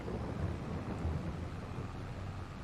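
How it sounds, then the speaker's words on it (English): Steady rain with low rolling thunder in Farming Simulator 22, a constant dense wash of rainfall under deep rumbling swells, no voices. "Rain's not letting up at all yet, is it?"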